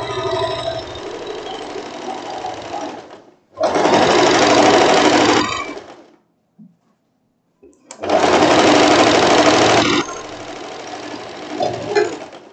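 An electric sewing machine stitches a skirt with elastic, running in loud, steady whirring bursts with rapid needle chatter, stopping briefly between runs, alone with no talk.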